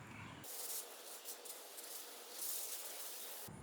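A steady hissing spray from a hose nozzle applying house wash runs continuously for a few seconds, fairly quiet, swelling slightly midway.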